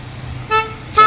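A car at a farmhouse in Karjat gives two short horn toots, the second louder, over a low idling engine rumble.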